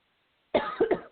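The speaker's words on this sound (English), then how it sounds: "I have to cough for a minute, so I'm going to mute myself." A few harsh coughs in quick succession after half a second of silence, close to the microphone.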